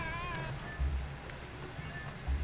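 A cat meows in the video game Zelda: Twilight Princess HD, several short wavering mews over game background noise and low thumps.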